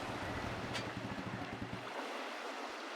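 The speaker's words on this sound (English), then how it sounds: "all you can hear is just the waves outside" Ocean waves wash against the outside of a ship in a continuous surging rush. Low, rolling swells fill the first two seconds and then thin out into a quieter wash.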